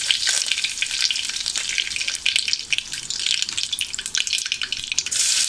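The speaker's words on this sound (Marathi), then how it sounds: "आणि कढीपत्त्याची पानं मी तोडून टाकली आहेत" Curry leaves crackle and spit in hot oil during a tempering on a gas stove, a steady, close, fairly loud frying sizzle with sharp pops throughout and no talking.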